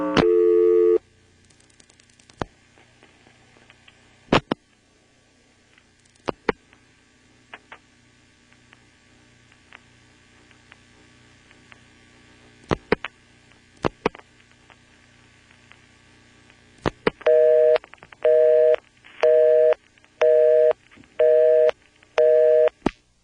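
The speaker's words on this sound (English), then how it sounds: "We dialed 3111 and got a busy signal." Telephone busy signal on a 1977 NX1-E exchange trunk, preceded by line hum, clicks and a brief tone, then a loud regular on-off beeping cadence repeating about seven times.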